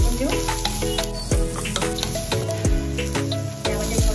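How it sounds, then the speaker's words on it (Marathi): Chopped onion sizzles steadily in hot oil with whole spices for paneer lababdar, with a spoon occasionally scraping and stirring the pan up close while background music plays. "कांद्याला थोडं परतून घेऊ"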